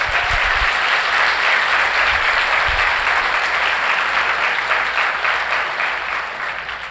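Loud, dense applause from a congregation at a church leadership course, a steady wash of many hands clapping together that holds strong before slowly thinning at the end.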